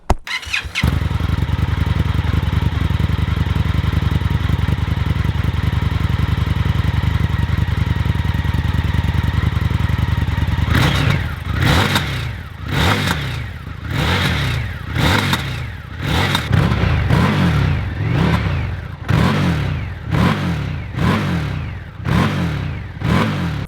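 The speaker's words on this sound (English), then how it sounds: "let's get on with the sound test. Just bear in mind this is a stock exhaust system" A 2019 Indian FTR 1200 motorcycle with stock exhaust idles loudly and steadily, then revs in a series of sharp, rhythmic throttle blips, close to the microphone.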